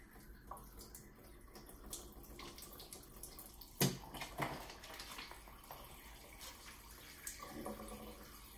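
Water draining out of a hydration bladder into a sink, a faint trickle and splash with occasional louder gurgling bursts, quiet and without talk.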